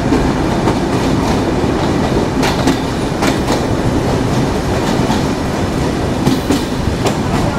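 A Padma Express passenger train runs on rails from Dhaka Airport toward Kamalapur, giving a loud, steady rumble with rhythmic clickety-clack of wheels over rail joints throughout, heard from on board with no talking.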